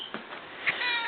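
A single short cat meow, faint and close, in a quiet indoor room.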